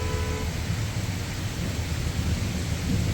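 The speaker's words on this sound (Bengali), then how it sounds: "মেঘ ডাকছে এক এক সময় বাজ পড়ছে জোরে জোরে" Steady heavy rain roaring close by during a night storm with a power cut, a deep low rumble of thunder running underneath, no voices.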